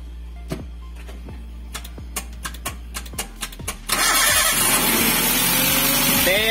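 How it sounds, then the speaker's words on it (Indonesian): A Toyota car's engine is started during a power steering oil change. A series of sharp, irregular clicks leads into the engine catching, and it then runs loud and steady close by. "ini akan kita starter ya"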